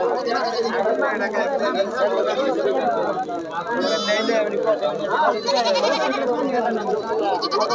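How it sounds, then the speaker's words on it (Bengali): Goats bleating at a crowded goat market, several cries rising above a dense babble of people talking nearby throughout. "দেখুন এই যে মাশাআল্লাহ প্রচুর ছাগল দেখতে পাচ্ছি।"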